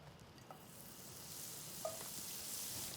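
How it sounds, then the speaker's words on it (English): Butter sizzling and foaming as it melts in a hot frying pan before buns are toasted, a steady close crackle throughout with a faint clink near the end. "I'm going to pop some butter in here."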